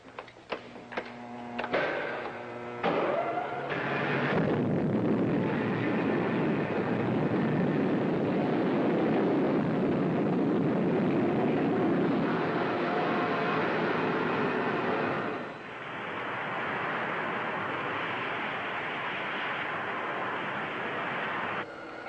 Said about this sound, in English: Okay, gang, secure for blastoff.